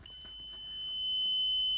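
A handheld electrical test probe emits a steady high-pitched continuous beep when touched to a wiring connector on a 2006 to 2015 Ford Galaxy, starting partway through and sustaining at moderate volume.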